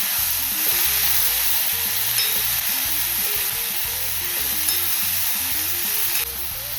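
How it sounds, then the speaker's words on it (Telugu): Black-eyed peas fry with onions in a pan and hiss in a loud, constant sizzle, with soft stirring scrapes throughout. The sound cuts down slightly near the end. No voices. "ఈ అలసందలు వేసిన తర్వాత కొంచెం బాగా మగ్గాలి."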